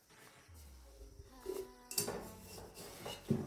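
Corn kernels being tipped into a small metal pot in a home kitchen, giving a few clattering, scraping impacts that build toward a louder rattle near the end, with no talking.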